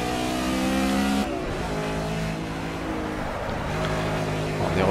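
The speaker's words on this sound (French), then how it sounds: "on entend d'ailleurs à chaque arrivée sur ce freinage hein, qui est en descente, qui est terrible à cet angle droit, que je bloque littéralement les roues" Race car in Project CARS braking hard into a downhill right-angle corner at Road America with wheels locked, a steady loud engine drone shifting pitch as it slows, close and continuous without any voices.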